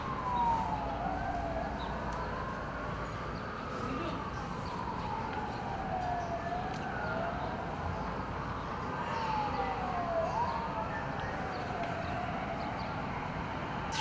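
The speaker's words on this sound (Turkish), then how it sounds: "itfaiye araçlarından çıkan siren sesi çevrede yankılandı" Fire engine sirens wail through an Istanbul neighbourhood, otherwise quiet under a curfew, as trucks arrive at a fire, the rising and falling tones sweeping in repeated cycles against a steady street background.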